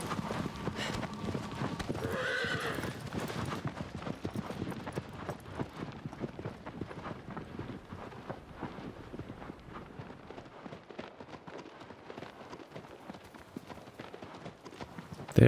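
Horse hooves clip-clop steadily on sand in Shadow of the Colossus, a quick rhythmic gait with a brief whinny early on, close and fairly quiet throughout.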